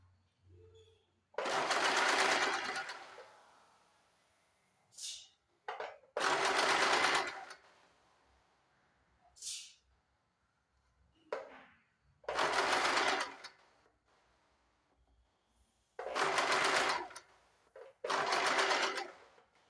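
An electric sewing machine stitches fabric in about five loud, close bursts of rapid whirring, each lasting a second or two, separated by quiet pauses with brief handling clicks.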